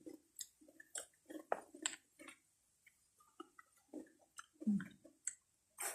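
Close, quiet chewing of papaya salad sprinkled with lead tree seeds: irregular crunchy bites and wet mouth clicks in short bursts, separated by brief pauses, with no talking.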